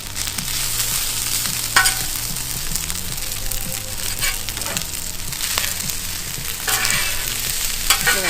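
Rice frying in melted butter with Chinese five-spice in a camp kitchen pan, a steady close sizzle broken by scraping stirs, with no talking.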